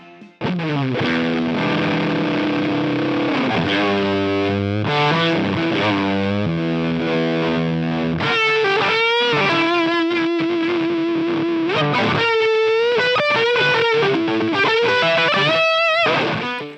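Electric guitar played through a Hamilton Effects Embers fuzz pedal, giving a thick, saturated distorted tone that runs continuously and loud, with chords and sustained single-note lines throughout.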